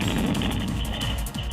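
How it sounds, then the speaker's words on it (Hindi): A bag full of firecrackers dropped from a man's hand bursts on the ground beside a car, giving a loud, dense crackling blast that keeps up for the whole stretch, captured on a CCTV camera. "पटाखों से भरा बैग शख्स के हाथ से छूटकर जमीन पर गिर जाता है, जिसके बाद जोरदार धमाका हुआ"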